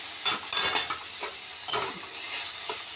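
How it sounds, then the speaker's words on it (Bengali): Neem leaves and eggplant fry in a pan with oil, a bright crackling sizzle broken by a few sharp scraping stirs of a spatula, close and clear with no voices. "আমি এগুলোকে সুন্দর করে ভেজে নেব"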